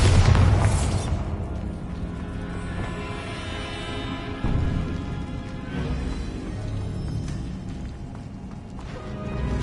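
A loud, deep Bombarda spell blast from a video game, with a heavy boom at the start followed by a long rumbling, crackling tail and scattered debris pops and ringing over several seconds.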